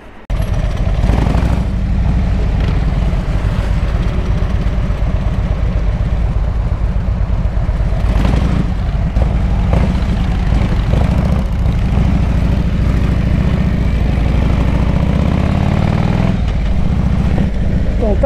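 Yamaha Dragstar motorcycle fitted with a T-Bar handlebar, heard while riding on the road: a steady, loud engine drone with a low throbbing rumble that holds throughout, rising and shifting slightly.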